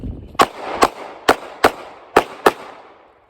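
Six sharp gunshots at a shooting target from 5 yards, fired in a quick, slightly uneven string over about two seconds, loud and close with short decaying echoes after each crack.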